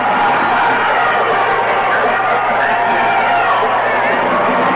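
A football crowd yells across a stadium at a 1990 Texas high school regional championship, a distant, steady wash of voices without distinct peaks.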